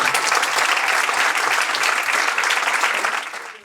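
Audience applause at a film awards ceremony fills the clip, a dense, steady wash of clapping from a large crowd that holds strong throughout and begins to fade in the final half second.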